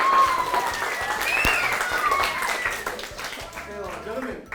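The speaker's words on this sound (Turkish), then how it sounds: "Alkışlıyoruz. Bravo. Alkış." Clapping from students in a middle school drama class, a moderate patter of hands overlapped by excited voices, laughter and a whistling tone throughout.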